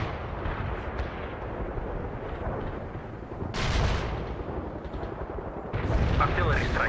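An artillery barrage in World in Conflict rumbles continuously as a dense low roar, with heavier blasts bursting through midway and again near the end, over faint voice-like chatter.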